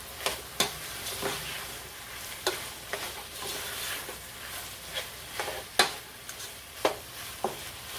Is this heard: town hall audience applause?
no